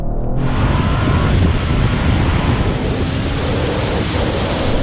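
BMW i4 M50 and Audi RS5 accelerating side by side from 30 mph in a rolling race, with the Audi held in second gear: a loud, steady engine and road roar with heavy wind rush throughout, and no talk.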